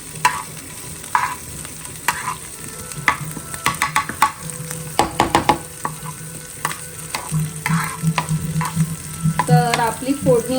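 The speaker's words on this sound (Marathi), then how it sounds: "तर आपली फोडणी आता झाली आहे रेडी." Marathi phodni tempering sizzles in a pan over a low flame while a spoon stirs it, with a steady fry hiss, scattered scraping clicks and a burst of crackling near the end, no talk.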